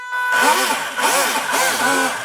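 The engine of an Explorer ZSX-750 RC model airplane buzzes loudly up close as the throttle is worked, its pitch swooping up and down four times in quick succession.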